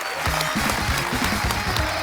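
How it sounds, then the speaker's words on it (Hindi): Dense applause from a TV show studio audience, loud and sustained throughout, with a low rhythmic musical backing underneath. "एक बार जोरदार तालियां हो जाएं"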